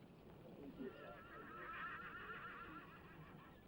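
Horses neighing and whinnying in an Old West town setting, a steady mid-loud whinny carrying through most of the stretch over a murky background, with hoof clip-clop hard to pick out.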